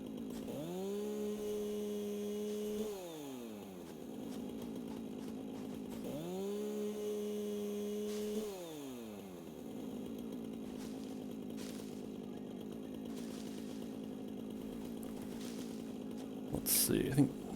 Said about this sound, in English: Boy, it's been a long time since I've used the chainsaw.